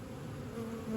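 Honeybees at an open hive give off a steady, close buzz, with one droning tone rising briefly above the low hum.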